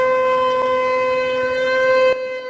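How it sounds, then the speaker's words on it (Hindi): A steady, droning air-raid siren in Pakistan holds a constant tone, loud and unbroken for a couple of seconds before cutting off abruptly. "ये पाकिस्तान का सायरन बज रहा है"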